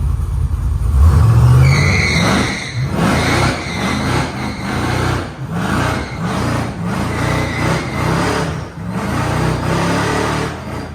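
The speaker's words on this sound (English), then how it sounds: "now that's how you do burnout" A Chevrolet C10 shop truck revs hard and spins its tires in a burnout, loud engine roar with rising pitch followed by a long stretch of rough skidding and surging engine noise.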